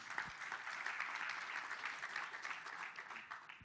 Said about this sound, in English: So a big round of applause for our speakers.